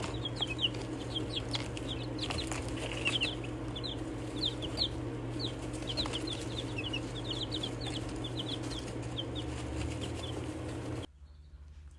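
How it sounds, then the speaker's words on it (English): Young chicks, a mixed brood of home-hatched birds plus Buckeye chicks, peep steadily in high chirps with occasional soft clucks, close by and continuous over a low background hum that cuts off near the end. "So these are the 5 that I hatched out, plus 4 what are supposed to be Buckeye chicks"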